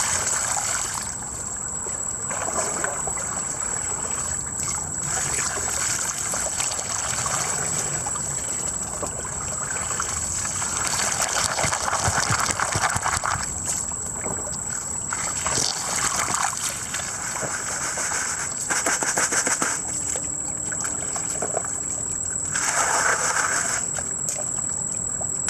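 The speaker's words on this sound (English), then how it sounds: "So we'll slowly just pour the water in here and clean off these rocks." Water poured slowly over rocks in a gold sluice box, splashing and trickling in uneven bursts at close range, fairly soft and without talk.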